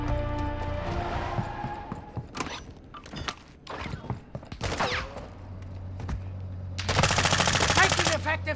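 Bursts of video game gunfire with creaks and mechanical clatter, scattered shots through the middle and a loud dense volley toward the end, over a low ambient hum.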